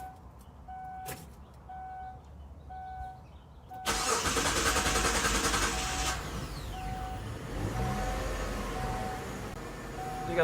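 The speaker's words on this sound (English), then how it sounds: "We got the car running." A Kia Sedona engine starts after a fuel pump replacement. Soft chimes from the key being turned come first, then a loud crank catches and settles into a steady idle close by.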